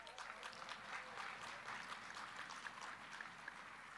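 Audience applause during a Democratic National Committee general session, a steady dense wash of clapping from a large crowd, sustained and fairly even throughout with no clear talk over it.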